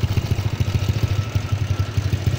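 A modified Yamaha Lagenda 110 motorcycle with a 3mm jack rod idles close by, its exhaust putting out a fast, even, lumpy pulse with a rattly edge, alone with no talk.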